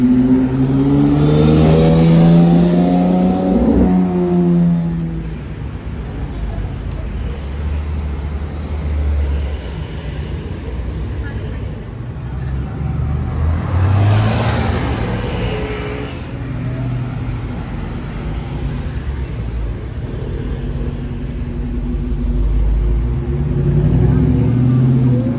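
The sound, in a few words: Porsche sports car engine revving and driving past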